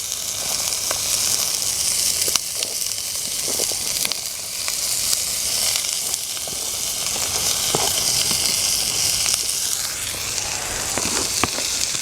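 Celery and onions sautéing in a hot pan for a chicken and tasso jambalaya, a continuous close sizzle broken by scattered clicks of stirring and a brief louder crackle near the end.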